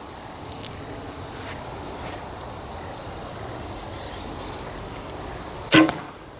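A Ben Pearson Cobra bow shooting an arrow: a quiet, steady outdoor background with a few faint soft bumps, then a single sharp, loud snap and thud of the release near the end.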